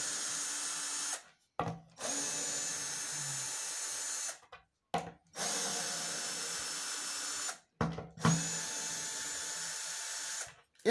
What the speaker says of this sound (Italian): svito la mia targa